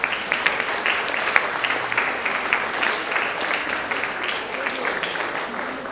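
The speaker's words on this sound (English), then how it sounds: "we can please give them a big round of applause" An audience at a middle-school winter award assembly gives a sustained round of applause for parent volunteers, a broad, even crackle of many hands, moderately distant and steady throughout.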